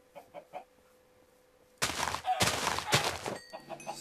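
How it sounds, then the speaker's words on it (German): Several chickens cluck in Minecraft, a few soft isolated clucks followed by a loud, dense burst of overlapping squawks and clucking, then quieter clucks trailing off. "Da zeigen sich aber eine ganze Menge Hühnchen"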